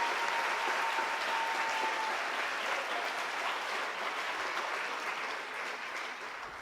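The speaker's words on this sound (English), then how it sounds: "So I would like to applaud them a bit." An audience applauds at a youth science camp closing ceremony, a steady wash of many hands clapping throughout, fairly distant and gradually easing off.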